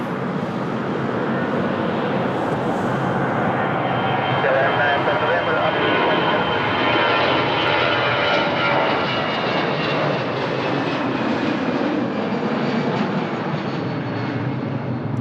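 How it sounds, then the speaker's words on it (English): An airplane takes off at Lisbon Airport with a loud, steady jet roar that holds for about fifteen seconds and builds slightly as it goes. "let's go for another takeoff"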